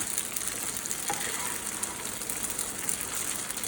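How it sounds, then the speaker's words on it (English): Cooked pasta warms over lowered heat in a pan with a steady, soft sizzle and a faint frying hiss that carries on evenly the whole time. "So I'm going to actually lower the heat right now, because I just want to warm my pasta up"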